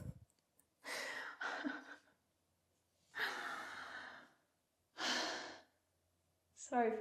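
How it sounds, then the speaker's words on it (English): Heavy, loud breathing from someone mid-way through an at-home resistance band leg workout, several long panting exhales and sighs separated by short pauses, close to the mic, with no speech. "Sorry for breathing so loud."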